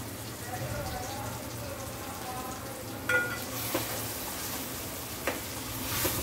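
Green chili, chili powder and turmeric sizzling in hot oil for fish curry, a steady crackling hiss throughout with a few sharp spatula knocks on the pan, and a voice speaking faintly over it.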